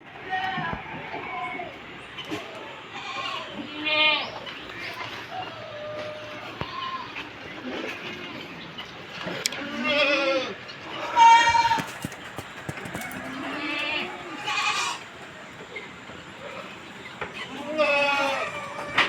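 Goats on a goat farm in Sindhuli bleat repeatedly and loudly at close range, several animals calling in turn, with a person talking now and then between the calls.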